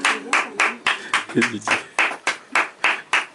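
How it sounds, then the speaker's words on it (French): Studio audience on a French-language radio show clapping in distinct rhythmic bursts, about ten even claps from a small group, with a brief voice murmuring underneath partway through. "Applaudissements, s'il vous plaît."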